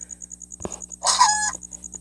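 Chicken clucking in a block-building video game: a brief burst of bright, tonal clucks in the middle, with soft game tones and a faint repeating chime running through the background.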